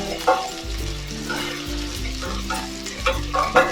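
Curry leaves and dried chillies fry and sizzle in hot oil while being stirred, a steady crackle with periodic scraping strokes, close and alone with no talk, for a Kerala-style beef curry.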